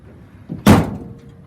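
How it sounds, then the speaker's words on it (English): Tailgate of a 2002 Ford Ranger pickup falling shut with a single solid, fairly loud metallic slam and a short rumbling decay, preceded by a softer clunk of the latch releasing, with no talking. "Tailgate opens and closes as it should."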